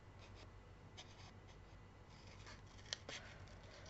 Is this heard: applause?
no